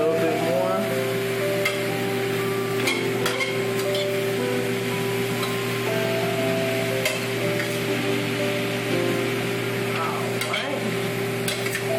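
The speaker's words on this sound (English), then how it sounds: "Stir that a little bit more." Food being stirred in a pan on the stove, a steady sizzling hiss with intermittent scraping strokes of the utensil, loud and close over a constant hum, with no voices.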